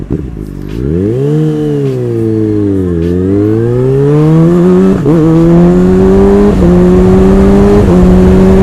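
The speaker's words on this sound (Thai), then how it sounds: "การใช้ engine brake" A big-bike motorcycle engine braking through gear shifts, its loud revs rising and falling in steady pitch sweeps with brief dips at each shift, heard close and alone.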